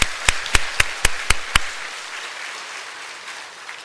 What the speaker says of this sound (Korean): 우리 네 분, 우리 박수 한번 합시다.